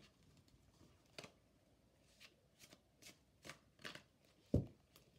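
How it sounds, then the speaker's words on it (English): A large deck of tarot cards is shuffled in a series of short riffling bursts, fairly quiet and close, ending with a sharper knock as the deck is squared. "I like these cards, but I don't like that I can't shuffle them the way that I want to."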